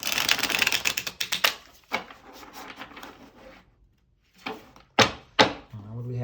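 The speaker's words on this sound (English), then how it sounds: "I know you all like to see them being shuffled, so I'm going to do a quick bridge or two here" Crisp riffling bursts of tarot cards being shuffled and bridged, several quick cascades with soft taps and pauses between, close up.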